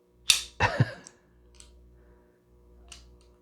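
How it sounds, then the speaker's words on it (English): A pistol slide is racked back with a sharp metallic snap and a second clack, then a few faint clicks of a failed dry-fire attempt with a snap cap, close and alone. "Let's slide back here."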